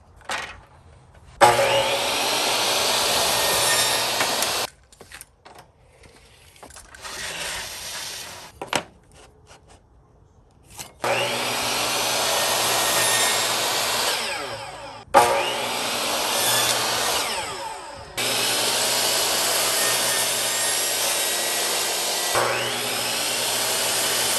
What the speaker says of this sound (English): First time using the new saw. I'm using MDF.